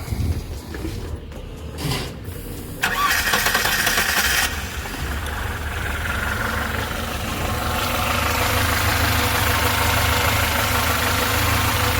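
A rebuilt Lada car engine cranks and catches, then settles into a steady idle with a low, even rumble and slight rattle.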